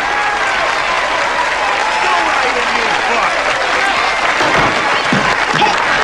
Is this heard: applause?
yes